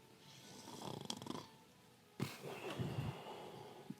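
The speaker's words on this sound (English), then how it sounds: "you hear the loud snoring." A green dragon snores loudly in a tabletop fantasy setting, with a couple of deep rumbling breaths separated by a pause, close and heavy.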